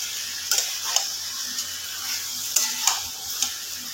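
Mutton being stir-fried for kosha in a pan, a steady close sizzle with a few sharp clicks and scrapes of stirring, no talk.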